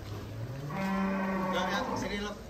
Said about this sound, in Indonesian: Belgian Blue berotot.